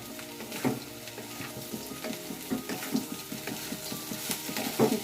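Cauliflower singara filling sizzles steadily in a pan while it is stirred, with repeated scraping strokes over the continuous close frying hiss and no talking.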